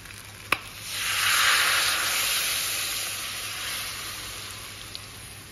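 Water hits a hot pan of spice-fried mutton and erupts into a loud, steady sizzle and steam hiss that swells after a brief clatter, then slowly fades over several seconds; no talking.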